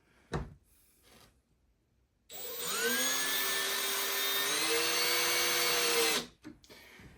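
A power drill driving construction-grade deck screws into a wooden board, one sustained whirring run of about four seconds after a short knock, close and loud with rising and falling pitch, no talking.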